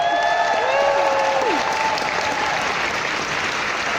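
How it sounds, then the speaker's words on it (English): Dense applause from a large audience at an evening youth awards ceremony, cheering finalists; steady and loud throughout, with a few whoops and whistles rising early on before the clapping carries on evenly. "Give a round of applause for our finalists."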